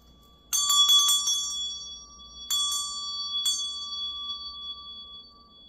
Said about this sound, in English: I'm going to ring my meditation bell